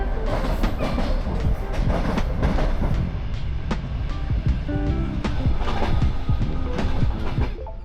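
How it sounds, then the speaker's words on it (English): An overnight passenger train in the Caucasus rolls steadily as it arrives in Tbilisi. Loud continuous rumble and rattling carry rhythmic clickety-clack of the wheels throughout, heard from inside the carriage. "our train is now arriving in Tbilisi a couple of minutes ahead of schedule"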